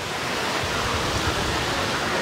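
Water rushes steadily beneath a raised walkway at Thiruvananthapuram Zoo in Kerala, a constant broadband hiss like a small waterfall or stream, even and fairly loud throughout.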